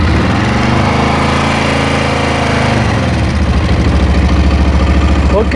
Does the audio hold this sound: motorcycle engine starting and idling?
yes